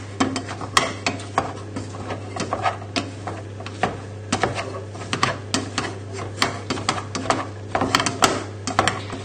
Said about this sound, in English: So just keep mashing. Get rid of all those nasty lumps.